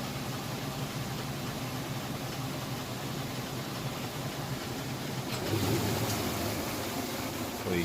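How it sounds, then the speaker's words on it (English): A Whirlpool top-load washing machine spins full blast in its final spin cycle, giving a steady, fairly faint whirring hum with a brief louder swell near the end. "it's coming out of the final rinse into the final spin. It's spinning full blast."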